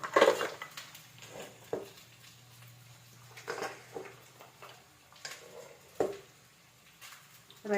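Metal spoon scraping and tapping through vegetable fried rice in a pan, a scattering of irregular clinks and scrapes with quiet gaps between them, close by and moderately loud, with no talking.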